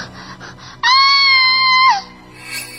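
A girl lets out a shrill, frightened scream, one sustained high-pitched cry lasting about a second, loud and close, preceded by soft murmuring and followed by a quieter breathy sound.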